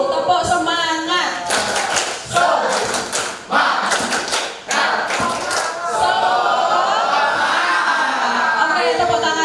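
A group performs the tepuk semangat rhythmic clapping game, sharp clustered claps in bursts with shouted voices over a busy crowd, loud and close.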